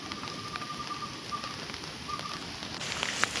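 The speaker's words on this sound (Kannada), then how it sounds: "ಈಗ ಮಳೆ ಬರಲಿಕ್ಕೆ ಸ್ಟಾರ್ಟ್ ಆಯಿತು." Rain beginning to fall outdoors near a young drumstick tree, a steady pattering hiss with a few faint bird calls. No voices are heard.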